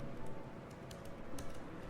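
Steady, rapid clicking of a computer keyboard as a short grocery task is typed, close and continuous with uneven key rhythm.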